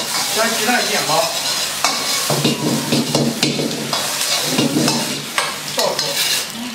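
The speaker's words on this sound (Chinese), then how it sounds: "将鸡蛋煎好" Eggs fry in olive oil in a wok for scrambled eggs with tomatoes, a loud, continuous close-up sizzle with repeated stirring strokes and scrapes, no voices.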